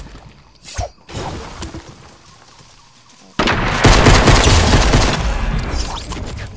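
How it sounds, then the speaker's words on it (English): Enemy gunfire in a shooter game: after a quiet stretch with an isolated shot, a sudden loud barrage of rapid shots and blasts erupts and continues steadily to the end. "Someone over there, he's trying to shoot at me."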